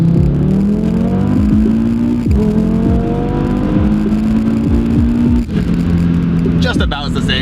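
A modified 2019 Audi RS3 engine revs up toward redline with rising, sustained loud tones and a sharp drop at the end, while someone talks over it.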